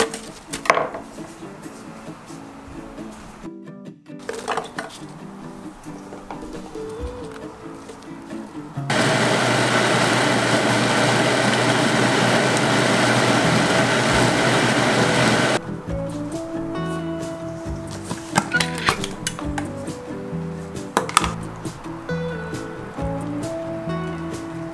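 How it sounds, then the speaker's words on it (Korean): A kitchen blender grinds chopped apple, onion, pear, garlic and ginger, a loud steady whirring roar that runs for several seconds, with clattering prep noises before and after. "믹서기에 썰은 사과, 양파, 배를 넣고 추가로 마늘과 생강을 넣고"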